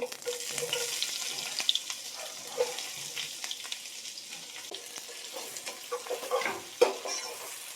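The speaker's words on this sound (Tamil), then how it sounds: "இப்போ கரம் மசாலாலாம் நல்லா பொரிஞ்சு வந்துட்டுருக்கு இந்த டைமில் வந்து நம்ம வெங்காயம் வந்து கட் பண்ணி வச்சுருக்கேன் ஒரு வெங்காயம் அதை இதில் சேர்த்துடலாம்" Chopped onion frying with garam masala in a pan, giving a steady close sizzle with stirring and occasional sharper clicks of the spoon against the pan.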